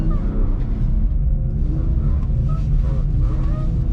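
A BMW E46 car doing a figure 8 in snow, its engine a steady loud rumble heard from inside the car with pitch rising and falling as it revs through the turns.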